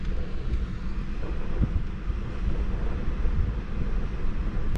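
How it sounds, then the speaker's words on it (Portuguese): Strong wind blows at a beach campsite at Praia do Pontal in Arraial do Cabo, a steady, loud low rumble buffeting the microphone for several seconds, with no talking. "Vou mostrar um pouco pra vocês ali de fora, só pra vocês terem noção do vento."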